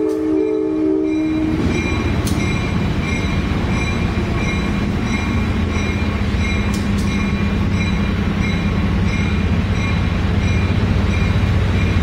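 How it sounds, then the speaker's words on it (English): Westbound Downeaster passenger train rolls past a stopped freight train on a siding, a loud continuous rumble of wheels and cars with a horn-like tone and occasional wheel squeal, close and steady throughout. "I did catch a westbound downeaster passing the stopped freight."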